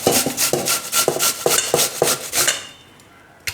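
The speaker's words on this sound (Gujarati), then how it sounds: "તો 2 બટેટા આમાં છીણી લેવું" Two potatoes rubbed against a kitchen grater in rhythmic scraping strokes, about eight quick passes close by, before the sound stops and the room falls quiet.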